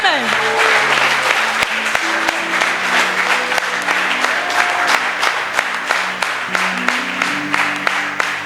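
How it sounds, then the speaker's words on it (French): Church congregation applauding during a French-language worship service, a dense steady wash of clapping held at even loudness throughout, with sustained organ or keyboard tones and voices mixed underneath. "Acclame pour Jésus."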